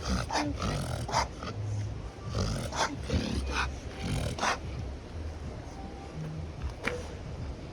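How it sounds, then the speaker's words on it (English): A dog coughs and hacks in a series of rough, uneven bursts, fairly close, with short pauses between fits. "George, you've got a little bit of a cough."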